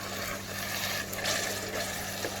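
Water pours steadily into a pot of smoky party-style jollof rice, a continuous close-up splashing rush lasting a couple of seconds with a low background hum and no talking.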